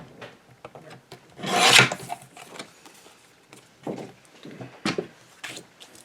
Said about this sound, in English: I'm going to trim off each edge a little bit, just so it's more even on the card.